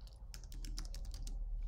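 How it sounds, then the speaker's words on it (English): Quick, steady typing on a computer keyboard, a close run of light plastic key clicks lasting under two seconds, with no speech. "Now let's type"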